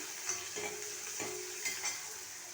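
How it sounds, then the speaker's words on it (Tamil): Shallots for chicken liver gravy sauté in a pan with a close, continuous sizzle, broken by rhythmic scraping stir strokes every half second or so. "சின்ன வெங்காயத்தை நல்லா வதக்கிக்கலாம்."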